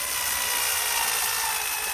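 A cordless screwdriver drives a 75mm screw into the underside of a timber gazebo, producing a steady, close, high-pitched whirring hum that holds level without pauses and with no talk over it.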